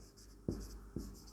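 Marker or chalk strokes on a board during a physics lesson on electric potential, two short faint scratchy taps about half a second apart in an otherwise quiet room.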